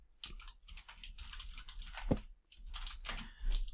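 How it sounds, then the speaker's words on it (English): A password is typed on a computer keyboard, a quiet run of close key clicks in short irregular bursts with brief pauses between. "Let's type in the password."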